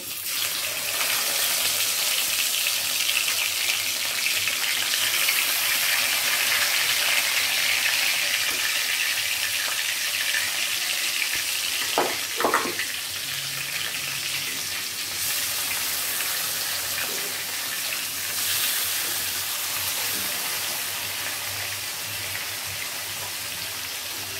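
Spice-marinated fish hitting hot oil after a cumin tempering, giving a steady, close hiss of frying for the whole stretch, with a couple of brief clinks midway.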